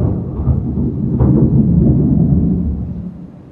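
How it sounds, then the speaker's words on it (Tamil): Thunder rumbles through heavy rain late at night, a loud, sustained low roll that swells and then fades slowly, steady and close with no voices. "மின்னல் தானே அடிச்சுது. செம மழை பெஞ்சிட்ருக்கு நைட்டு 11 மணிக்கு."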